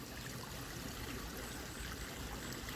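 Water runs steadily down a homemade fake rock waterfall in Thailand, a continuous broadband rush and trickle that holds even in level throughout, with no voices.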